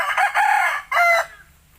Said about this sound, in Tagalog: Ngayon tumitilaok na.